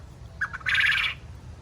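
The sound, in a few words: jumbo Coturnix quail calling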